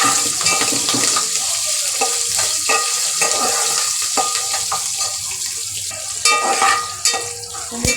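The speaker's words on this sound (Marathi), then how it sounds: "मिरच्या पण आपल्या फ्राय झाल्या." Curry leaves and green chili pieces frying in hot oil, a bright, crackling sizzle that runs continuously and loudly throughout, with small pops and spatters.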